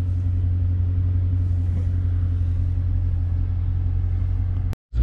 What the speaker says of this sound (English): Traffic jam here.